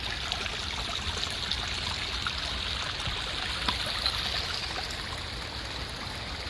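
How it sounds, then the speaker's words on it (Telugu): Waterfall streaming down rocky hills near a temple in Telangana, a faint, steady hiss of flowing water with no talk. "ఎక్కడెక്కడ నుంచో నీళ్ళు అనేది వస్తుంటాయి అన్నమాట గుట్టలపై నుంచి"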